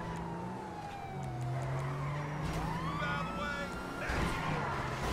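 A police siren wails behind a car in GTA 5 as the engine revs and tires skid during a chase, the siren sweeping up and down at moderate volume with a voice talking over it.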